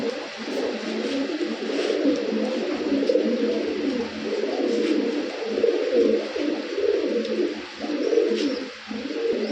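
Musaldom pigeons coo steadily in a low, continuous throbbing chorus, several birds close together, with no voices.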